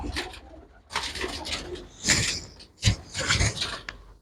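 Domestic pigeons in a fancier's loft coo and rustle continuously up close, with a few louder swells among the steady murmuring.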